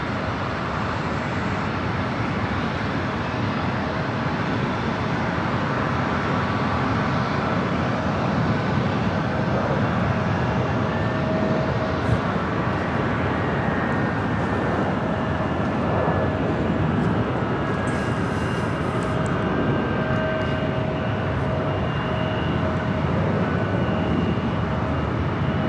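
Airliner engines roar steadily at the LAX runway, a continuous loud broadband rumble with a faint whine on top, no talk.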